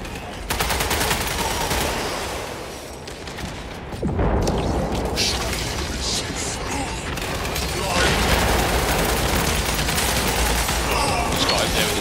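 Heavy rapid gunfire and booming blasts from sniper rifles and grenades in Space Marine 2 fill the scene, loud and near, with a short break before dense firing resumes, and battle voices murmur underneath.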